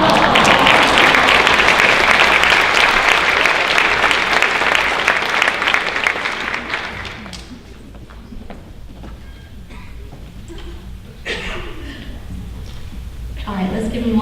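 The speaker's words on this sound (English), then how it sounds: "let's give him one more round of applause" Audience applause at a high school honors night, a dense roar of clapping for about seven seconds, then fading into scattered claps and murmuring voices as the crowd settles.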